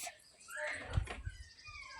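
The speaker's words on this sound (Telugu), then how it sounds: "కుక్క వచ్చింది" A dog that has wandered into a home garden lets out a few short whimpering yips, faint and brief, with a slightly stronger cry partway through over quiet outdoor background.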